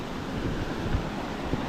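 Constant rushing of a river flowing above a waterfall in Eastern Uganda, a dense broadband wash with some wind buffeting the microphone and no voices.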